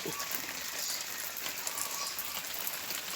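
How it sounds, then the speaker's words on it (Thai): Rain falling steadily on surfaces around a flower garden, a continuous soft patter of many drops with faint scattered ticks, moderately quiet and with no voices. "ฝนตกมาแล้วเย็นจังเลย"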